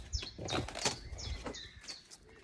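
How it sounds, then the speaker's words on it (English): Noisy birds outside give rapid chirps and tweets in short busy bursts, moderately close, with no one talking over them. "we've got really noisy birds."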